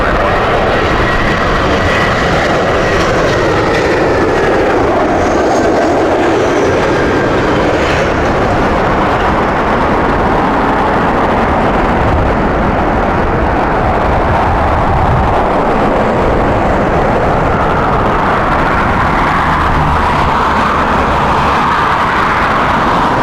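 An Airbus A318 at Heathrow Airport in strong crosswinds, a loud, sustained jet engine roar that rises and falls slowly as the aircraft passes, with wind noise throughout.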